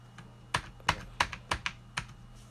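Bursts of typing on a computer keyboard that comes with a matching mouse, about seven sharp clacks at an uneven pace, close and fairly clear over a low steady hum.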